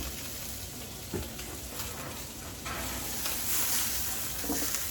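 Salmon sears in a hot pan, giving a loud, steady frying sizzle that grows a little stronger partway through, with a few light clicks of movement and no voices.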